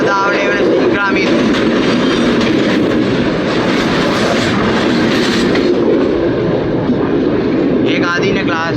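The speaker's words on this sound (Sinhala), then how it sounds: "මහව බලාධාවනය වන සීග්‍රාමී දුම්රිය දැන් යනවා මගේ වම් අත දෙසින්" An express train bound for Maho passes close by on the left, a loud sustained roar of rolling wheels with clickety-clack rhythm and wind buffeting. Horn-like tonal bursts sound near the start and end, and a voice talks over it.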